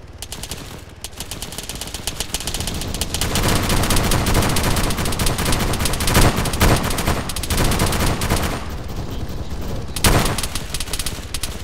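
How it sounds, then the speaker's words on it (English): Gunfire in the ARMA 3 military game rattles in dense, sustained automatic bursts, loud and close, swelling midway and cracking out in a sharper volley near the end. "there was gunfire coming from, looks like northeast to you"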